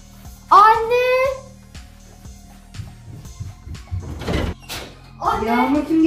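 A door slides open partway through in a horror video game, with a short rumbling scrape, between bursts of a child's high-pitched Turkish speech over a steady background hum.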